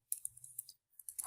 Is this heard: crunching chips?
no